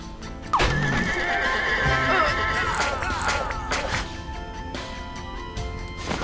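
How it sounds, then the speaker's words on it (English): A horse in Scribblenauts Unlimited lets out a loud, close whinny with a shaky, wavering pitch. Clip-clopping hooves follow and carry on under the dying neigh. "So let's give you a horse."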